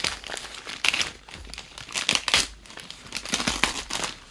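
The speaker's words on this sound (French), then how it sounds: "Donc c'est dans du papier bulle" A gift packed in bubble wrap is unwrapped right beside the microphone, giving loud, continuous crinkling and crumpling with rustling bursts and no pauses.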